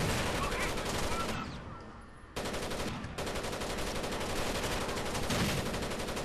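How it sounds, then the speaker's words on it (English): Gunfire in the video game Rainbow Six Vegas 2, where a shotgun is in use: loud, dense, continuous shooting that drops out briefly near the middle, then resumes and carries on steadily to the end. "I'm using the shotgun"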